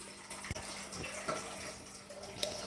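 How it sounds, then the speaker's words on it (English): Water poured into a pot to clean omena sardines, a steady soft splashing stream with a few louder splashes, close by and fairly quiet, with no talking. "So we are going to pour some water"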